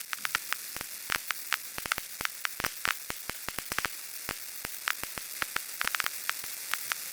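Vinyl distortion effect in Ableton producing a crackling record-static texture: sharp irregular pops and clicks scattered over a faint steady hiss and low hum, with no voices.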